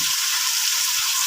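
Pakbet vegetables fry in a pan with a steady, loud, close sizzle that never lets up, and faint stirring thuds sound now and then underneath.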